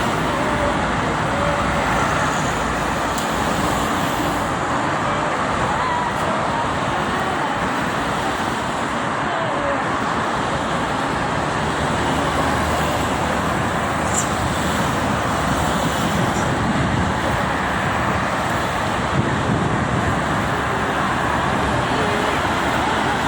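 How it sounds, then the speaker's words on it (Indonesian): Dense morning traffic, mostly private cars, rushes continuously along the Jakarta–Cikampek toll road in both directions, a loud unbroken roadway roar with no distinct pass-bys standing out. "Kendaraan pribadi ini ramai ya, mendominasi Tol Jakarta Cikampek pagi ini."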